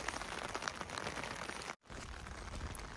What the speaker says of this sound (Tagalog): Ala, lakas na ng ulan.